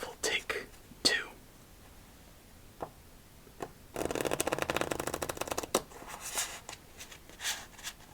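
A deck of playing cards riffled in a long, fluttering burst, preceded and followed by a few sharp snaps and soft handling sounds, close by.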